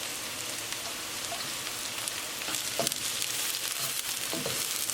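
Green chili fries in a tadka of oil and onions, giving a steady, moderate sizzle with scattered crackles and pops, close by and fairly quiet.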